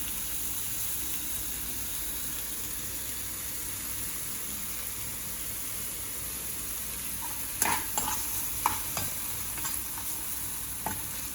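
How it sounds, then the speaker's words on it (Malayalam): Onions sautéing in a pan for a home-cooked curd curry give off a steady, soft, close sizzle, and near the end a few scattered scrapes and taps come from the stirring, with no voices. "സവോള ഒന്ന് വഴന്നു വരുന്നത് വരെ നമുക്ക് വെയിറ്റ് ചെയ്യാം"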